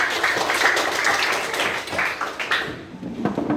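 Students in a classroom clap together, a brief burst of group clapping that fades out after a few seconds, with no voice over it.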